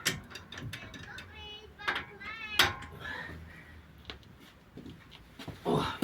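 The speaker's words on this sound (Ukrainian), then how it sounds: "Взяли отакий довгий ключ. І якщо не зломимо його, то зараз відкрутимо." Long wrench working a tight nut loose on an Audi A6 during front wheel bearing replacement, ratcheting clicks and metallic creaks in short bursts, with people talking over parts of it.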